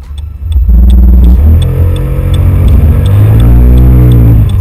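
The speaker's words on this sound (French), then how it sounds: "Au démarrage, la latence du bloc 4 soupapes est toujours là, ça embraye tôt, puis l'on sent un palier jusqu'à 25-30 km/h" A Kymco K-XCT Sport 125 scooter with a four-valve engine pulls away from a standstill, its loud, close engine hum rising in pitch, levelling briefly, then climbing again as it accelerates.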